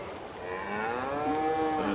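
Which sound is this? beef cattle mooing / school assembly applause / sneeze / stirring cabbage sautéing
beef cattle mooing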